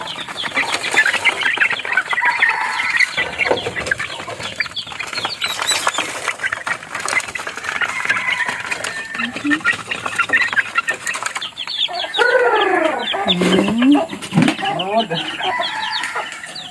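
Chickens and chicks cluck and peep continuously at close range while feeding in the afternoon, with wing flaps and a louder hen call near the end.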